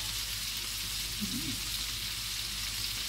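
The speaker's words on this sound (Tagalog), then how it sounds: "Sangkot lang natin pa pang ating hipon." Shrimp sautés in a pan with a soft, even sizzle that stays fairly faint and constant over the short stretch, with one brief low stir near the middle.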